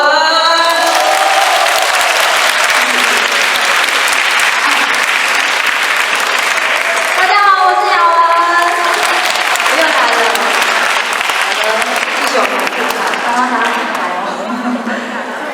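A concert audience at a charity cancer-awareness show applauds loudly to welcome a singer, a dense sustained wall of clapping with a brief voice over it partway through, fading slightly at the end.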